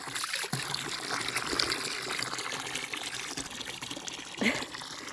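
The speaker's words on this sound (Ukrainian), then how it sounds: "І от водичка тече, можна тут води скільки завгодно мати." Mountain spring water trickles steadily close by, a continuous bright splashing flow with a small gurgle near the end and no talk over it.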